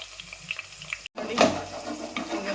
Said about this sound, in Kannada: ಈರುಳ್ಳಿ ಮುಕ್ಕಾಲು ಅಂಶ ಫ್ರೈ ಆಗುವಾಗ ನಾನು ಅದಕ್ಕೆ ಹಾಕ್ತಾ ಇದ್ದೇನೆ ಒಂದು ಮೂರು ಕಾಯಿ ಮೆಣಸು ಮತ್ತು ಸ್ವಲ್ಪ ಕರಿಬೇ ಸೊಪ್ಪು ಅದರೊಟ್ಟಿಗೆ ಒಳ್ಳೆಯಿಂದ ಫ್ರೈ ಆಗಲಿ